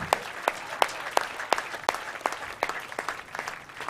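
A small audience at a local hero awards ceremony claps, sparse and moderately loud, with distinct individual claps.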